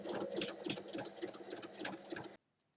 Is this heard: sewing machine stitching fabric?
yes